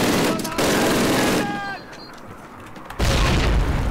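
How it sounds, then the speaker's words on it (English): Loud blasts and rumbling gunfire fill a World War battle video game, a heavy burst of explosive noise, a brief quieter lull with faint whistling tones, then another loud boom close up. "Oh, I'm gonna throw a grenade."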